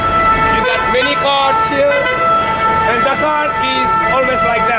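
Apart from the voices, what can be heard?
ambulance siren in Dakar traffic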